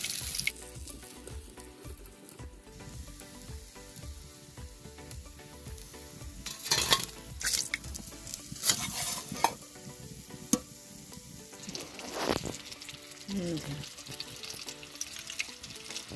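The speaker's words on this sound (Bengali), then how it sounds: "আমি একে একে ম্যারিনেট মাংসগুলোকে ভেজে তুলে নেবো।" Marinated chicken pieces frying in hot oil for chilli chicken, giving a steady low sizzle that swells at times, broken by utensil clatter and turning sounds, with no one speaking.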